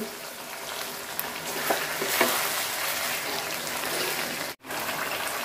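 Large pangas fish pieces, head and belly cuts, frying in oil in a pan, giving a continuous hissing sizzle at moderate volume with a faint clink or two and no voices.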